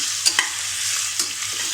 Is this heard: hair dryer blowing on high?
no